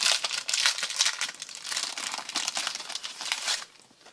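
Close, steady crinkling and rustling of small transparent plastic card sleeve packaging being handled, continuous for several seconds before fading slightly at the end.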